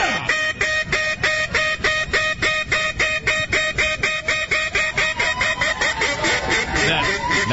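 Man imitating a duck with his voice, a rapid train of rhythmic nasal quacks, loud and close, repeating steadily for about seven seconds.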